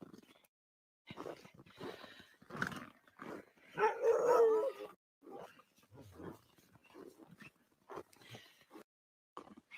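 Sled dogs at the Kota-Husky kennel in Posio, Finnish Lapland, bark and howl in scattered bursts, several voices overlapping near and far with quiet gaps between.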